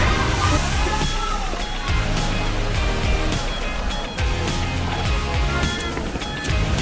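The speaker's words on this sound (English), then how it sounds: "Shifen Waterfall." Shifen Waterfall in Taiwan roars steadily, a loud, dense rush of falling water that fills the scene without pause.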